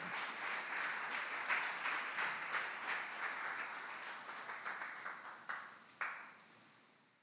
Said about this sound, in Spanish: Den un aplauso fuerte al Señor el día de hoy,